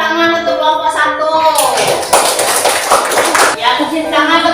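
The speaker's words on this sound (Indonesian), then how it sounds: "Ya, tepuk tangan untuk kelompok 1." A class of students gives applause for a student group in a classroom, a dense burst of clapping that rises after a voice speaks and lasts a couple of seconds before the talking resumes.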